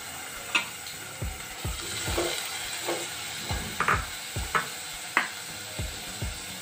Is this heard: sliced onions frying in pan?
yes